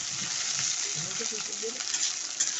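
Brinjal (eggplant) pieces frying in a pan give off a steady, close sizzle with soft crackles and faint stirring clinks running throughout.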